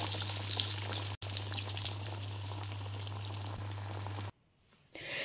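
Vegetable tikki sizzling in hot oil in a wok, a steady bright crackle with a low hum beneath, cutting off abruptly near the end.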